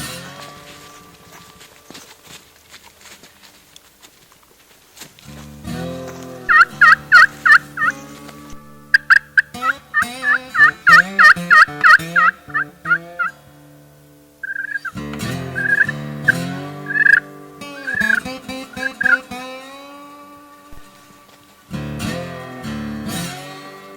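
Wild turkeys gobble loudly and repeatedly in bursts, with a big tom and several hens, including a bearded hen, near a food plot; the gobbles come in rapid rattling series separated by quiet gaps.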